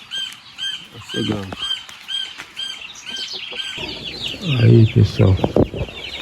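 A hen gives clucks and squawks near the chicks' pen with a little wing flapping, loud and close, as light rain starts. Someone speaks in Portuguese over part of it.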